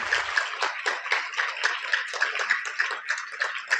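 School audience clapping together to welcome a guest speaker, a dense steady burst of many hands beating in quick uneven rhythm, loud and close, with no voices over it.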